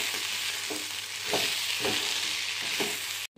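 Brinjal palya, a North Karnataka eggplant dish, sizzles steadily in a pan while a spoon stirs it with regular scraping strokes about every half second, close and alone.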